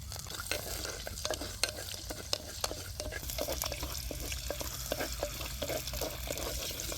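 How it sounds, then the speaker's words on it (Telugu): Mustard seeds and curry leaves sizzle in hot oil in a home kitchen, giving a steady dense crackle scattered with sharp pops and spits throughout, close and fairly loud, with no talking. "ఇప్పుడైతే ఒక చెంచా ఆవాలు వేసుకుందాం అలాగే కొంచెం కరివేపాకు కూడా"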